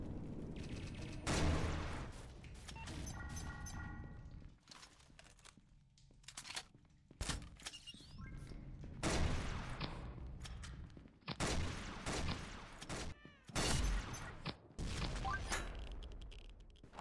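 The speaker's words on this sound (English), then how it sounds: "Who's shooting me?" Video game gunfire cracks out in scattered bursts and single shots, some loud and close, others fainter, spread through a busy match with brief lulls between exchanges and a voice talking over it.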